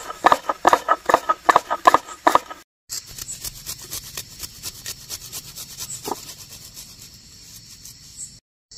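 Whole cumin, fennel, coriander, black peppercorns, dried chillies and cinnamon being ground together on a grinding stone, starting with a run of sharp rhythmic rubbing strokes, then a softer continuous scraping grind that fades near the end.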